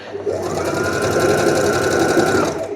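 A sewing machine stitching the lettuce hem of a drawstring dress runs in one steady, close, fast whirring burst of about two and a half seconds, with no talk over it.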